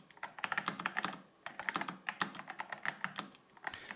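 Keys of a MelGeek Pixel mechanical keyboard being typed on, a rapid irregular run of crisp close clicks with a brief pause midway, no voices.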